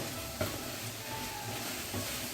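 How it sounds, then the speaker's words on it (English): A spatula stirs tuna and pepper empanada filling in a pan, giving faint scraping and shuffling over a soft background sizzle, with a couple of brief louder scrapes standing out near and quiet. "And stir. There's my spatula here."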